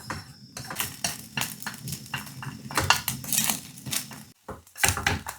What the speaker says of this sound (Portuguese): Aproveitar a mesma manteiga do cogumelo e vamos fritar o ovo. Mexendo sempre.